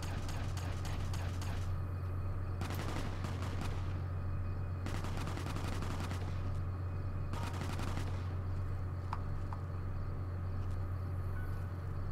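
Gunfire from non-player characters in Fallout New Vegas: bursts of rapid shots in several clusters over a constant low hum, moderately loud, with no talking.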